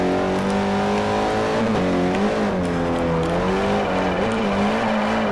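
A front-wheel-drive car with extremely large rims revs its engine in Forza Motorsport 4 during a drift tune, a loud continuous roar whose pitch rises, dips and climbs again as the throttle is worked.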